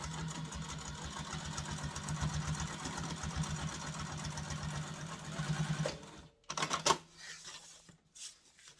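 A sewing machine runs steadily, joining diaper bag pieces with a hum and rapid stitching rhythm for about six seconds, then stops; a few short bursts and handling noises follow.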